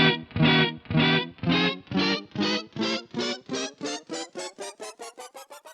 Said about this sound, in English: we've got the super weird stuff like this echo rise